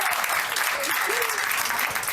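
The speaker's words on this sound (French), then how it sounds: "faites un tonnerre d'applaudissements pour tout le staff qui travaille pour vous ce soir" Comedy club audience clapping for the staff, a loud, continuous burst of applause through the whole stretch, with a voice briefly audible over the crowd.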